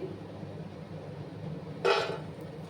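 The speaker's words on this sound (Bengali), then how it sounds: "একটা প্লেটের মধ্যে তুলে নেবো" Crisp fried nimki, a flaky tea-time snack, tipped onto a plate with a single short, bright clatter that follows a stretch of quiet room hiss.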